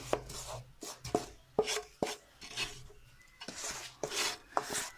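Homemade jaggery gajak being cut into pieces with a knife, a series of close, crisp cutting and scraping strokes in an irregular rhythm, quiet between strokes.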